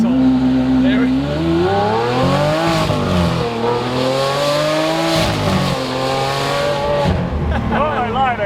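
A Lamborghini V12 engine revs up to about 6,300 RPM at around 55 mph, a loud, close, rising and falling engine drone with strong tonal sweeps, with voices talking over it.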